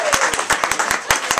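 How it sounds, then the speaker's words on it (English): Scattered audience clapping at a comedy roast, a series of distinct sharp claps at uneven intervals rather than a full ovation, fairly close and moderately loud. "Don't clap that much."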